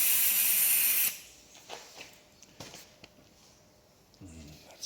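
Short bursts of hiss from a powder coating gun spraying plain gold powder onto a car bolt, a loud steady spray at first, then a few brief quieter puffs.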